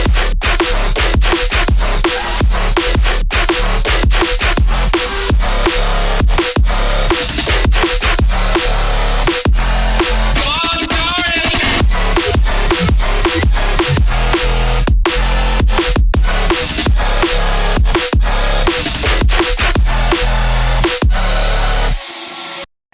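Tearout drumstep bass track playing loud and dense for over twenty seconds, with pounding drum hits and heavy distorted bass running continuously before cutting off abruptly at the end.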